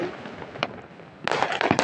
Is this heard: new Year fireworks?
yes